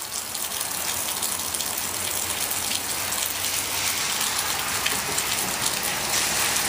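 Steady rain pours down hard and close in a dense, continuous hiss with pattering drops, filling the scene alone; no children's splashing or voices stand out.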